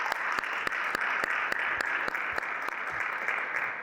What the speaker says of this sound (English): let's give a round of applause for Shawn and Mobin